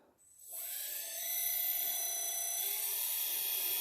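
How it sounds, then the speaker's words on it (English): An RC Hidromek hydraulic excavator's hydraulic pump starts up, rising from near silence into a steady high-pitched electric whine with several sustained tones that hold evenly close by. "Now that it's bound, I'm going to start the hydraulic pump using this dial."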